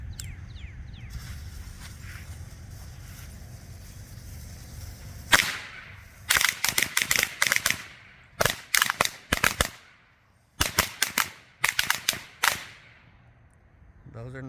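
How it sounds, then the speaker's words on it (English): Black Cat Lady Finger firecrackers pop in rapid crackling bursts outdoors: one sharp bang, then several dense strings of snapping reports separated by brief pauses, fairly close and loud over a low rumbling background. "These are the Black Cat Lady Finger Firecrackers."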